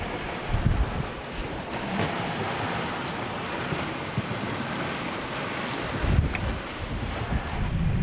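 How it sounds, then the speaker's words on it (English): Rough, confused seas slap and rush around a small sailboat, the sailing yacht Tarka, while strong wind buffets the microphone in a continuous roar, with heavier wave thumps near the start and toward the end. "the confused seas continued to throw little Tarka around"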